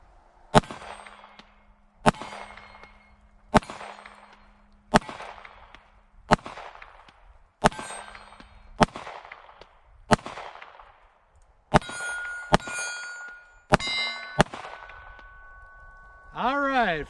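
Pistol gunshots from a Sig P365 XL fitted with an Icarus grip module and firing reloaded and remanufactured ammunition: about a dozen sharp, loud reports at a steady outdoor pace, some with metallic ringing, ending in a brief whistling tone.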